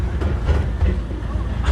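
Legoland Windsor ride train rolling past at close range, a steady low rumble with faint clacking over the track, continuous for the whole moment.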